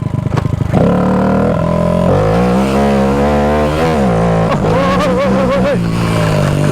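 A car engine rumbles loud and close as the vehicle drives slowly on a forest trail, the revs rising and falling in smooth, wavering swells after a brief start.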